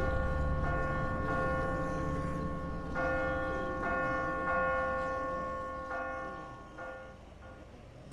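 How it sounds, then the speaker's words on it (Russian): A large bell rung in The Walking Dead video game, several resonant tolls spaced a second or so apart, each ringing out and overlapping with long decays, loud and alone. "Но самое главное было позвонить в колокол."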